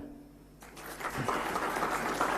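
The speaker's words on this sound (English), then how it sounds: "If you agree, please clap." Audience at a national workshop in Amaravati breaking into clapping after a quiet start, the applause rising quickly and holding at a moderate level.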